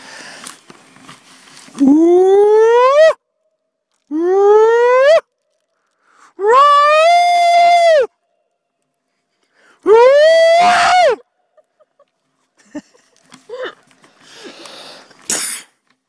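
A man lets out four long, rising howls imitating a Bigfoot call at night on a monster expedition at Lindsey Lakes, separated by silent gaps, followed by faint rustling and a short, sharp final cry.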